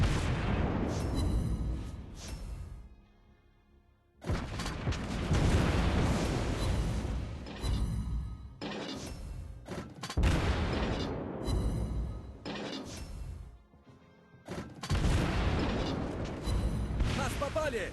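Naval artillery fire from warships in the video game World of Warships Blitz: loud, repeated booming blasts in heavy bursts that fill most of the stretch, with brief lulls between volleys.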